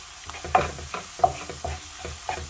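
Turmeric, crushed roasted cumin and whole dried coriander being stirred in a hot pan, a spoon scraping through the spices in a few short strokes. Close and moderately loud over a faint sizzle, with no speech.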